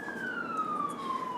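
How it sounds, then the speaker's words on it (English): A distant emergency vehicle siren wails in a steady, slowly falling tone, faint and continuous through the whole moment, with no voices over it. "even the sirens are going for that"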